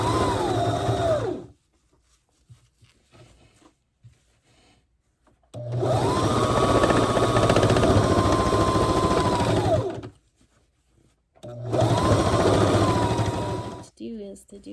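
A sewing machine stitching up the side seam of a ribbon skirt, running in three sustained whirring bursts separated by quiet pauses, loud and close.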